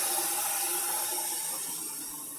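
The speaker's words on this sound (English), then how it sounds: "I always put lukewarm water into the coffee pot and let it soak" Lukewarm water runs into a coffee pot left to soak, a soft, steady hiss of flowing water that stays even and slowly fades a little, quiet and with no voices.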